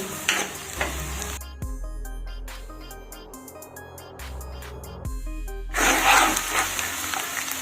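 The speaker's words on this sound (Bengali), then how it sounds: "একটা পেঁয়াজ কুচি আমি ভেজে বেরেস্তা করে নেব পেঁয়াজটা আমি অনবরত নাড়তে থাকবো" Chopped onion frying in oil in a pan for crisp fried onions, stirred continuously: a steady sizzle with scraping spatula strokes and clinks, loudest at the start and end.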